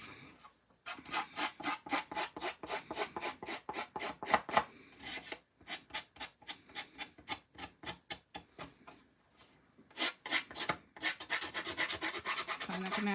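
Scissors rasping and scraping along the edges of pattern paper to distress them, a fast run of short rhythmic strokes in bursts with brief pauses, close and fairly loud with no talking.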